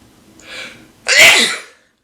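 A person gives a short breathy inhale and then one loud, close sneeze; only one full sneeze is audible.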